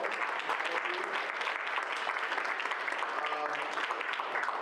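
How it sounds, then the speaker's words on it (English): Applause from an audience at an Ohio state budget forum on protecting healthcare and education, steady dense clapping throughout at a moderate, somewhat distant level, with a faint voice surfacing briefly near the end. "Can y'all give them a round of applause, please?"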